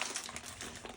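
The packaging of a sterile dressing change kit is opened and unfolded, giving a second of soft, close crinkling and rustling of paper and plastic. The sound is quiet, and no one speaks.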